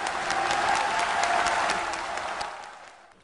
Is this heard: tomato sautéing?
no